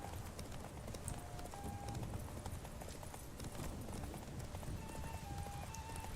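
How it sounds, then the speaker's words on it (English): A horse gallops in The Witcher 3 video game, a steady rapid clip-clop of hooves at moderate loudness over a dense ambient game soundscape, with no talking. "Run, Roach, run!"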